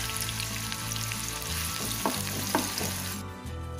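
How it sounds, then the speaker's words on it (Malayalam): Sliced onions frying in a pan of hot oil for chicken dum biryani, a loud, dense, continuous sizzle up close, with a couple of stirring scrapes partway through and a sudden drop near the end. "ഇനി ഇതിലേക്ക് സവാള ഇട്ടിട്ട് സവാള നല്ല പോലെ ഒന്ന് വറുത്ത് മാറ്റിയെടുക്കണം."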